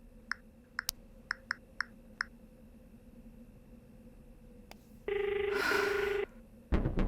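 A telephone rings in short electronic bursts, then a steady dial-like tone sounds, followed by a click at the end.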